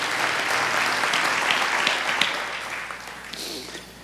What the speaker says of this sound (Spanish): Denle un fuerte aplauso a Dios mientras usted se sienta